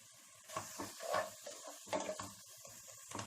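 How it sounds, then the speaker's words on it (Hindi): Spices for Ambur chicken biryani fry on a low flame in a pan, a quiet sizzle broken by repeated scraping and stirring strokes of a utensil against the metal, close and soft, with no voices. "लो फ्लेम पे 1 से 2 मिनट के लिए भून लें।"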